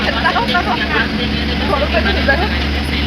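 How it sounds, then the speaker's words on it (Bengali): Bus at an airport carrying passengers toward their plane, a steady low engine rumble and road noise filling the interior, with continuous chatter of people talking throughout. "আমরা বাসে উঠছি বাসে টিকিট যাবো বিমানে উঠবো"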